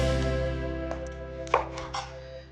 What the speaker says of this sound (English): you can use your knife